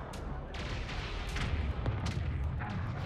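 Spacecraft weapons firing in the video game Homeworld 3: a dense, continuous rumble of distant blasts and booms, with scattered sharper bursts punching through over a few seconds.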